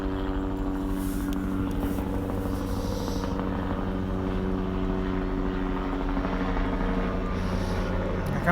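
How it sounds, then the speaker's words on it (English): A helicopter flying overhead at night in Chillicothe drones continuously with a steady rotor thrum, loud and sustained throughout, with no talking. "comes the helicopter again"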